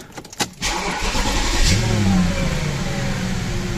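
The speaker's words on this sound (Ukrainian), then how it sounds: "нарешті двигун працює рівно" An Audi A8 4.2 FSI V8 engine with a misfiring fourth cylinder cranks briefly, catches, then settles into a steady, close running hum with no one speaking.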